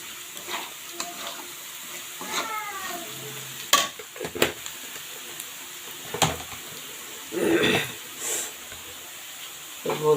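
Whole cumin seeds sizzle in hot oil for an egg curry, a soft frying hiss broken by scattered crackles, utensil clicks and a few louder bursts.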